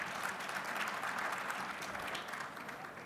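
A keynote audience at a 2018 forum claps steadily, a dense, even patter of many hands that holds for several seconds and eases slightly toward the end.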